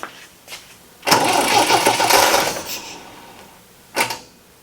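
An MGB sports car that has sat unused for 10 years has its starter motor cranking the engine in one sustained churning burst of about two seconds, with shorter brief cranking bursts before and after it.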